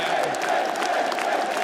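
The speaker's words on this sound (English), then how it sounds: "Right now, they're on their feet. They're cheering for you." An esports semifinal crowd at PGL Cluj-Napoca 2026 cheers and applauds in a steady, dense roar of many voices filling a large arena, continuous throughout.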